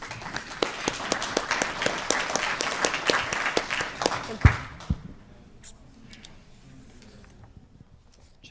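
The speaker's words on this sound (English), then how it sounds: "Let's give him a round of applause." An audience at a First Nations business forum breaks into applause, sharp individual claps thick at first, then thinning out and fading to near silence in the last few seconds.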